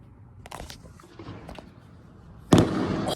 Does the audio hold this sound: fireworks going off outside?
yes